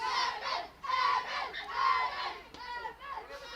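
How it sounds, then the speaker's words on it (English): Baseball fans in the stands cheer and shout in waves, a loud crowd roar with higher children's voices mixed in, swelling and dipping over a few seconds. "Both dugouts came to life. Fan base cheering them on."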